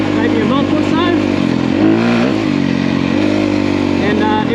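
A 2023 Honda CRF250R dirt bike engine revs loud and close, its pitch rising and falling in short bursts, with someone talking over it.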